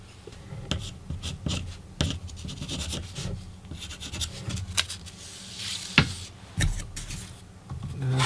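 A pencil tracing an outline onto paper laid over a piece of wood for a homemade Kobalt 24V XT60 battery connector, giving soft, irregular scratchy strokes and rubbing close by, with no talking.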